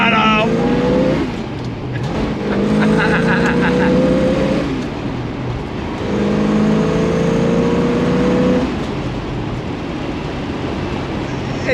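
1965 Ford Mustang GT K-code with a 4-speed top loader transmission, accelerating hard on throttle; its engine rises in pitch through repeated gear pulls, loud and close, with someone talking over parts of it.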